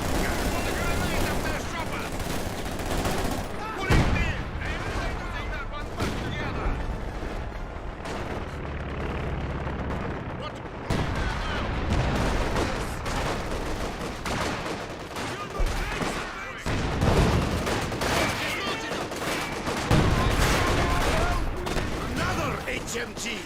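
Heavy machine gun fire in a war video game, sustained rattling bursts and repeated booming shots across a long stretch, loud and dense with brief lulls, with a voice talking at points over the gunfire.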